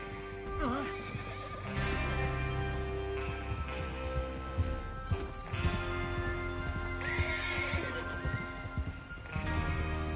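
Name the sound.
horses galloping and neighing, video game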